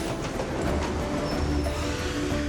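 A train at Oslo's central station in Norway gives a dense, steady low rumble with faint rail clatter and a brief thin squeal, close and continuous throughout.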